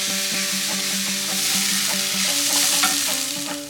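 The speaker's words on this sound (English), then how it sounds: "into the same pan I'm adding chopped onions and sauteing it until soft" Chopped onions and curry leaves sauteing in a pan after prawns were fried, a loud, dense sizzle with rhythmic stirring scrapes running the whole time.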